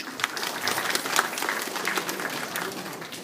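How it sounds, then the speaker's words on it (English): A community audience breaks into applause, a dense, steady patter of many hands clapping together at moderate loudness for the full stretch, with no talking over it. "So a round of applause to everybody for what you've done just to be here today."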